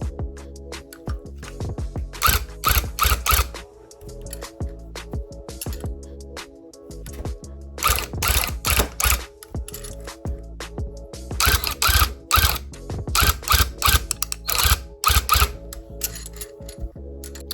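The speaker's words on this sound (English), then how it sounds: "I tap the trigger on here so that way I can remember like how many loops that I do" A rug tufting gun punching yarn loops into a custom rug as its trigger is tapped, giving close, loud clusters of rapid mechanical chatter in short repeated bursts with gaps between letters.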